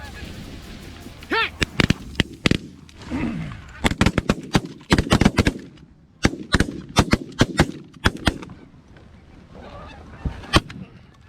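Shotgun blasts fired at geese during a waterfowl hunt, several sharp loud reports in quick clusters, mixed with goose honking and calling nearby and a few shouted voices.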